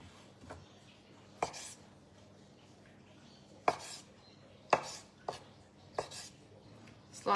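Knife slicing pitted olives on a cutting board: a handful of sparse, crisp taps, close but quiet, over low background hum.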